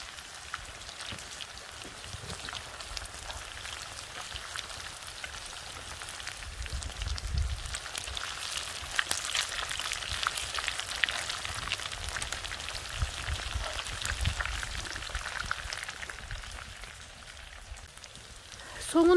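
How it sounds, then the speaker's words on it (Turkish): Steady hiss and crackle of cauliflower frying in hot oil in a pan, continuous and moderately loud, with no talking over it. "Somunu kızartıyoruz karnabaharın."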